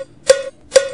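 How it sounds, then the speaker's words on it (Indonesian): FL Studio metronome in cowbell mode, giving two bright metallic cowbell clicks roughly half a second apart, each with a short ringing tail, loud and alone. "Dan ada cowbell bunyinya seperti ini."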